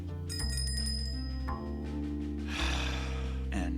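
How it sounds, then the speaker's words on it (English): A bell rings in the video game Shardlight, a bright metallic tone early on over sustained low music. "now he can hear the bell"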